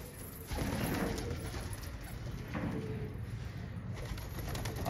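Pigeons of the Lalband breed coo softly in Rohtak amid a steady background of rustling and ambient noise, with occasional low murmuring calls throughout.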